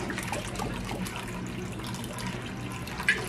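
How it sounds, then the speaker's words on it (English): Homemade apple cider vinegar poured into a jar for pickled eggs and sausage, a steady liquid trickle over a noisy background, ending with a brief glassy clink. "we're gonna add in a cup of my homemade cider vinegar"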